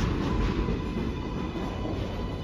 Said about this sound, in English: I think it's just the 7 train above us.